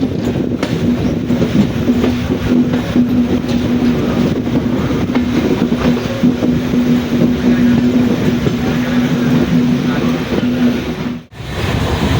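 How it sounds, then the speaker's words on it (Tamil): A train runs on the newly gauge-converted Peralam–Karaikal railway line. A loud, steady rumble and rattle of rolling wheels and wagons continues close by for the whole stretch, with a brief dip near the end. "இந்த பேரளம்லேருந்து காரைக்கால் அந்த கேஜ் கன்வர்ஷன் பண்ண லைனில் இந்த ட்ரெயின் வந்து ஜேர்னியை ஸ்டார்ட் பண்ணுது"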